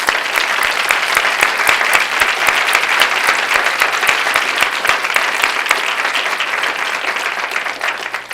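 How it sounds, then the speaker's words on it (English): Audience applause at a medical school awards ceremony honoring graduates and educators, steady dense clapping from a large crowd sustained throughout without speech. "please join me in a round of applause for all of our graduates and our educators"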